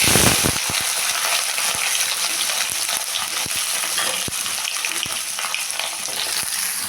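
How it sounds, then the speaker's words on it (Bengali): Mixed vegetables fry in hot oil with dried red chillies, bay leaves and panch phoron, giving a dense, constant close sizzle broken by light clicks of a stirring spoon against the pan. "তেলটা গরম করে নিলাম দিলাম শুকনো লঙ্কা তেজপাতা ফোড়ন"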